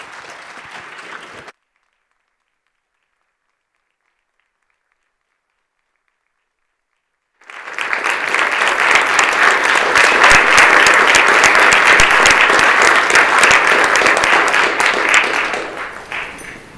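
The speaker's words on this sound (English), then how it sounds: "Please give our guys an applause." A brief burst of sound at the start, then silence, then loud sustained applause from a state assembly floor session for Vietnam veterans, dense clapping with some sharp individual claps, tapering off near the end.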